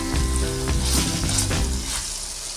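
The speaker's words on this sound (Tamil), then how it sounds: "ஸோ இன்னும் ஒரு 5 மினிட்ஸ் நம்ம லோ ஃப்ளேமில் குக் பண்ணிக்கலாம்." Mutton frying in a pan over a low flame, a steady close sizzle and crackle with faint stirring scrapes, no talking heard.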